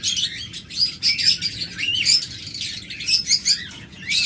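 A flock of lovebirds in a breeder's aviary, many high, rapid chirps and squeaky calls overlapping continuously, moderately near, with no voices.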